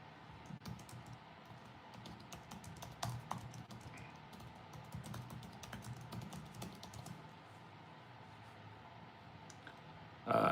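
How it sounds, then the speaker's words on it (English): Someone types on a computer keyboard while working through emails, with quick irregular clicks and short bursts of keystrokes at close range, soft and continuous, with no speech. "I keep going back to typing here. I'm just trying to get through emails."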